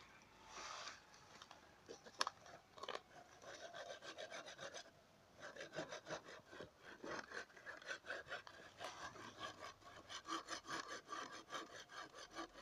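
Someone saws wood by hand at close range, with a rasping blade that starts with scattered uneven strokes and settles into a quick, steady back-and-forth rhythm.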